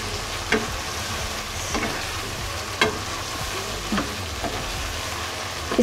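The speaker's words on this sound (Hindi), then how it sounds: "करके इसको मैं थोड़ी देर इसको भून लेंगे ताकि बिल्कुल ऑयल अलग हो जाए।" Minced meat (keema) roasting in oil in a kadhai, a steady close sizzle broken by occasional sharp scrapes and clicks of stirring, with no voices.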